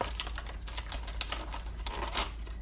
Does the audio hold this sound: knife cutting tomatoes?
yes